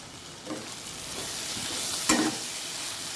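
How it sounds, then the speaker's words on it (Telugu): Bitter gourd pieces fry with garlic as chili powder is stirred in for a bitter gourd tomato curry. A soft, even sizzle hiss runs throughout, with one brief scrape of the spoon near the end. "కారం వేసుకొని కలుపుకోవాలి"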